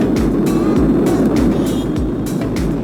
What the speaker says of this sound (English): All 4 RS-25 engines on the core stage and 2 solid rocket boosters now propelling the vehicle at